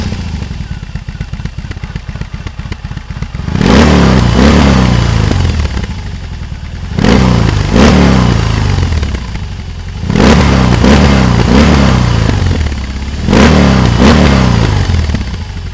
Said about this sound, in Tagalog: Tingnan muna natin ang tunog ng makina ng R18.